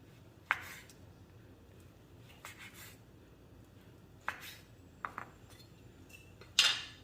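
Knife cutting through cooled fried taro rolls wrapped in tofu skin on a board, a few sharp separate clicks and crunchy slices spaced out over quiet background.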